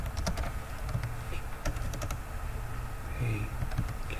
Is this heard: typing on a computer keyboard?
yes